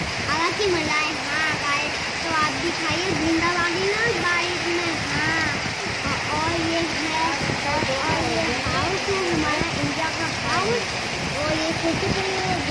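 Heavy rain pouring steadily in a hilly area, a dense continuous hiss with splashing throughout, while someone talks over it the whole time.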